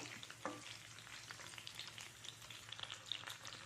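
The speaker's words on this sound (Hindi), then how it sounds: "और थोड़ी देर हम लो फ्लेम पे ही इसे फ्राई करेंगे ताकि अंदर तक अच्छे से पक जाए।" Fish fries gently in a pan over a low flame, giving a steady, quiet crackling sizzle with soft pops and no talking.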